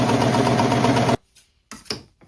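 A sewing machine running a rolled-hem lettuce trim on fabric buzzes loudly and steadily for about a second, then stops, leaving a few faint handling sounds.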